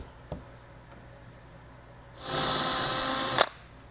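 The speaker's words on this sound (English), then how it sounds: "We'll go ahead and drill that one." A power drill bores a rivet hole in the trunk lid of a fifth-gen Camaro, a loud, steady high whine lasting about a second after a faint click, then cutting off sharply.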